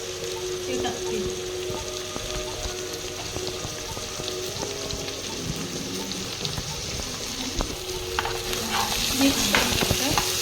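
Chopped green chili and finely diced tomatoes sautéing with wild mushrooms in a pan, a steady moderate sizzle with frequent stirring clicks and scrapes throughout.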